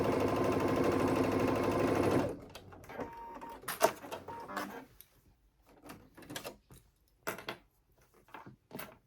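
A sewing machine runs steadily for about two seconds while stitching the side seams of a tank top, then stops, leaving scattered fabric handling clicks and rustles.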